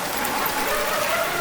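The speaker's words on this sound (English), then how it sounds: "God, it's gotta suck traveling in this rain." Steady rain falls in Fallout 4, a dense, even patter of drops on surfaces, continuous and moderately loud with no other sounds over it.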